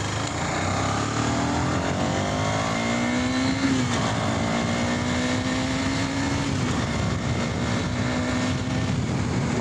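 A KTM Duke 250 BS6 motorcycle engine revs hard in third gear toward about 90. A loud, continuous droning pitch rises, falls briefly at a shift, then climbs again without pause.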